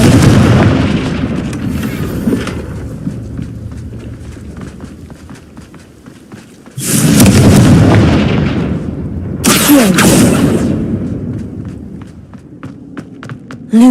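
Confringo fire spell explosions in the Hogwarts Legacy video game: rumbling game action with footstep-like thuds gives way to two loud, broad blasts, one near seven seconds and another near ten, each fading briefly.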